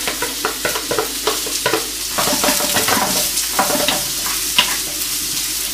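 Onions hit a pan on a medium-low flame and fry with a loud, close sizzle, with rhythmic stirring knocks at first and then a denser continuous crackle.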